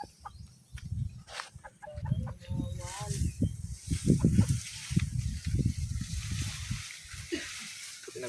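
Chickens on a fishpond farm cluck in a run of short, overlapping calls at close range, fairly faint, with someone talking intermittently over them.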